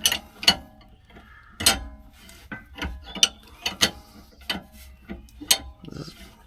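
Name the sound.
tightening down a clamp on a Ford Transit leaf spring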